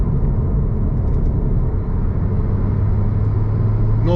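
Ford Focus ST3 engine while driving: a steady, loud low rumble and road drone that carries on throughout, with no talk over it.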